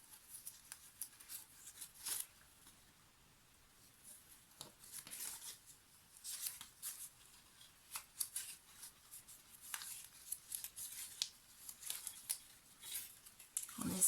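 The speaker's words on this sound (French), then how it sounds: "Donc ces papiers-là, je vais les plier en accordéon." Sheets of paper folded accordion-style for a junk journal snippet roll, a soft run of crisp paper crinkles and creases with brief rustling bursts, close and fairly quiet, no voice.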